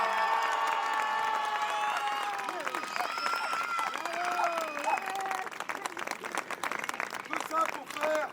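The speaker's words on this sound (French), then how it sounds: "On applaudit Alexis!" A crowd at a witch festival fire show in Bouxwiller bursts into sustained clapping and cheering, loud and dense throughout, with shouts and a voice over the top.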